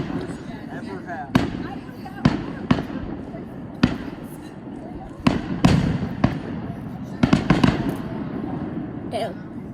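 Fourth of July fireworks go off in a string of sharp booms and cracks, about a dozen irregular bursts over several seconds, some doubled in quick succession, ringing out over a steady outdoor background rumble.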